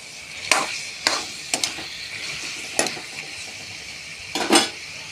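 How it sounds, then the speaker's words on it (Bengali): A spoon scrapes and knocks against a pan while fried potato and pointed gourd are stirred into spices, several sharp clatters spaced irregularly over a soft sizzle. "দিয়ে নাড়াচাড়া করে মিক্স করে নেব মশলার সাথে।"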